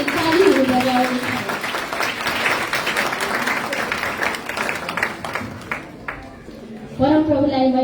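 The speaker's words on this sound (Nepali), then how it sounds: "हामी एकले अर्कालाई स्वागत गर्दै हाम्रो जीवित परमेश्वरलाई स्वागत गर्दै हामी तालीहरू बजाउँछौँ।" Congregation at a church service applauding together in welcome, a dense wash of clapping across the room with voices singing and speaking over it.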